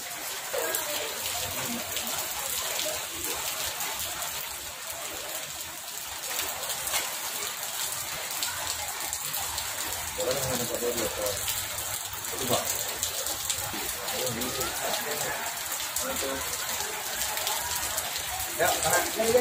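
Steady rain pours down on an outdoor crowd gathered in West Sumatra for a visit by Anies Baswedan, a dense hiss of drops on surfaces filling the whole stretch, with crowd chatter beneath.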